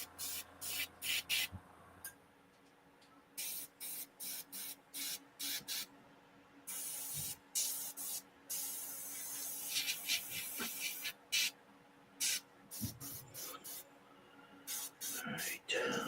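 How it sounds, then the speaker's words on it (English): Airbrush spraying in quick bursts of hissing air, repeated many short blasts with pauses between, fairly close and moderately loud against a quiet room background. "somebody's airbrushing"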